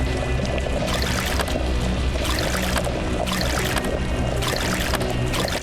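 A character drinking water in the survival game Vein, a continuous loud pouring, gulping wash of liquid with rhythmic surges, no talking.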